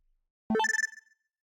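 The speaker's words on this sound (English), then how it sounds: "Suzuha heard a sound from her cell phone that she'd never heard before. これは It was the sound of a video message." Video message notification on a cell phone in Steins;Gate 0: a single short, bright electronic chime with a quick descending-to-rising tone pattern, clear and alone against silence.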